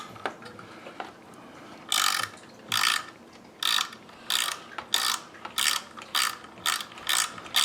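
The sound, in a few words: right angle ratchet with screw adapter loosening screws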